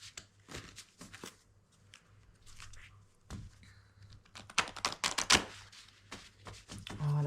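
Oracle cards being shuffled by hand, a series of quick papery riffles and slaps in bursts, close up, with short pauses between them.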